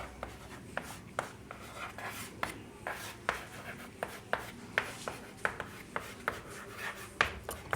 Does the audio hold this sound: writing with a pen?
yes